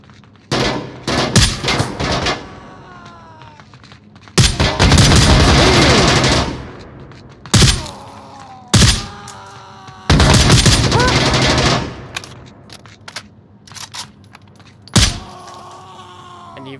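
Blind gunfire in the VR shooter Onward, loud close bursts of automatic fire and single shots in several separate volleys, with a voice talking between them.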